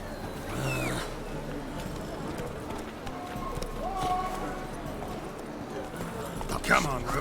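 Hooves of the horse Roach clip-clop steadily in The Witcher 3 game, set against music and ambience, with a few spoken lines and a brief neigh-like burst near the end.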